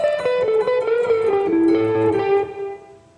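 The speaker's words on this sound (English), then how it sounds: "so the solo up to this point sounds like this." An electric guitar plays a blues solo, a quick run of sustained, slightly bent notes stepping downward, ending on a held note that fades out, with no voices.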